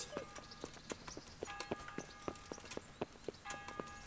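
Horse hooves clip-clop at a walk in the medieval game Kingdom Come: Deliverance, a steady run of sharp knocks against faint ambient tones, moderately quiet, with no speech.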